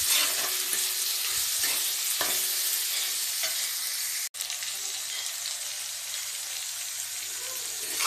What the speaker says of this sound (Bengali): টমেটোগুলো মশলাগুলো ফ্রাই হয়ে গেছে।